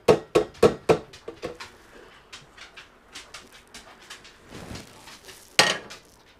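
Hydrated ingredients dumped from a container into a blender: a burst of sharp clattering knocks up front, then scattered softer scrapes and taps, with one loud clunk near the end; close by and without speech.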